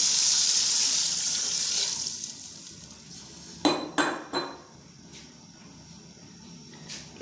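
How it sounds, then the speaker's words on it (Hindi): Water rushes from a tap into a cooking pot of moong daal, a loud steady flow that fades off, followed by a few sharp clinks of metal utensils against the pot. "सबसे पहले हम इसमें पानी ऐड करेंगे।"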